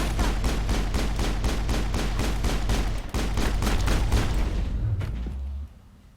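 Rapid repeated gunfire in the Mass Effect video game, a dense run of loud evenly spaced shots with a brief pause midway, trailing off into quieter ambience near the end.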